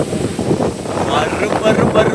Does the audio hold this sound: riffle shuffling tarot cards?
no